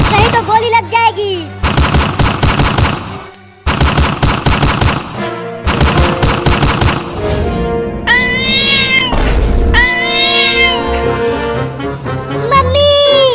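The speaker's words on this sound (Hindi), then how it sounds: "चिंटू, ये बिल्ली बंदूक कैसे चला रही है?" Cartoon cat sound effects: loud bursts of rapid gunfire, several volleys with short gaps between them, followed by repeated close, shrill meows and caterwauling in a Hindi desi comedy cartoon.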